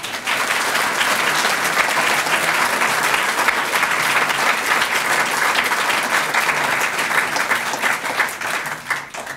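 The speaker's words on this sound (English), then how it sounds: "So a round of applause, please," A lecture audience gives a long, loud round of applause, with dense, sustained clapping from a large crowd holding steady and only thinning slightly at the very end.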